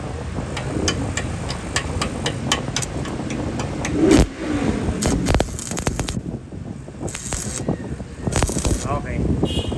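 A Toyota car drives around corners with its engine humming and revving at mid pitch, along with scattered clicks and knocks, while someone talks throughout.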